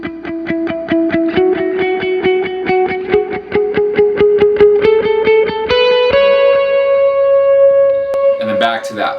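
Lead electric guitar with delay and reverb effects picks a steady run of repeated notes that walks upward in pitch, ending on sustained ringing notes, loud and close with no talk.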